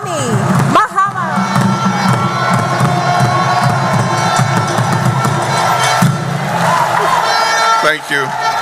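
Large audience at a diaspora town hall meeting in London giving a standing ovation, loud sustained cheering and applause with whoops and a sustained tone running through it, continuous for the whole stretch.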